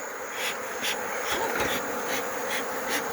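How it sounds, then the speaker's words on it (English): Honeybees at a beehive during a hive inspection in Nigeria make a steady, close, moderately quiet buzzing drone, with small swells as individual bees pass near. No voices are heard. "call them honeybees"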